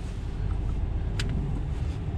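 A 2003 Ford F150 4x4 pickup engine runs steadily in four-wheel drive with low range off, giving a continuous low rumble that holds at a constant level throughout, with a brief faint higher click partway through.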